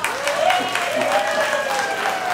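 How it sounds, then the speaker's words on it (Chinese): An audience at a temple deity birthday celebration in Jurong West, Singapore, claps in a steady wash of applause, while a faint tonal sound rings over the crowd. "你们要我下去就掌声鼓励一下"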